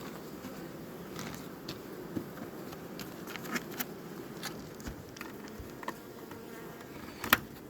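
Honey bees at a hive being treated for varroa mites in late summer keep up a dense, even buzz, with occasional louder passes and small clicks close by; no talking.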